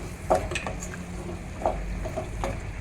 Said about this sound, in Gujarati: હવે આપણે જે કાજુ ફ્રાય કર્યા હતા એ આપણે એમાં એડ કરી દઈશું અને બરાબર મિક્સ કરી લઈશું